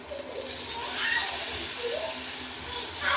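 A little water is poured onto jaggery in a heated pan, giving a continuous hissing, bubbling sizzle at moderate volume with faint background sounds.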